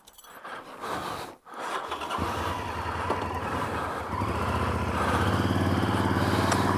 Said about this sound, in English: God, that's a nice bike.